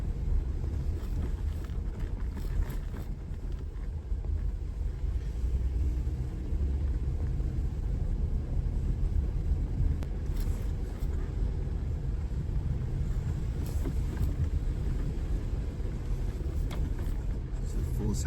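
An off-road vehicle rumbles along a Citrus WMA trail, a low, steady engine and tire drone with wind buffeting the microphone, continuous and close throughout.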